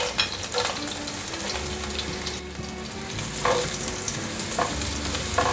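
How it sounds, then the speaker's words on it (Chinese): Minced celery and vegetarian mushroom pieces stir-fry in hot oil, with a loud, continuous sizzle and repeated scraping strokes of a spatula against the wok. "芹菜炒香了，现在放入素香菇角。"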